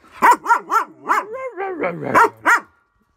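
A dog barks several times in a quick series of loud, close yips and bow-wows, ending with a short whimpering bark.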